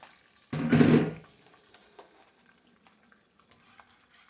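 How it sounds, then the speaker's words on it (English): Eggs dropped into hot olive oil in a skillet for shrimp fried rice give a sudden loud sizzling burst lasting under a second, which then fades to a faint, quiet crackle. "We're going to go ahead and add our eggs. We have some olive oil in the skillet already."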